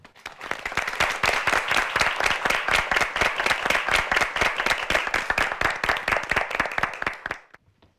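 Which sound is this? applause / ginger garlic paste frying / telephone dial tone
applause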